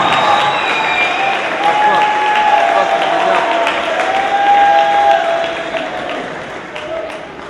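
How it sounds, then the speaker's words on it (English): Sustained crowd applause and cheering fill a high school gym during senior night for basketball and other athletes, loud and steady before easing toward the end, with a voice over the public address. "give a round of applause for our senior athletes."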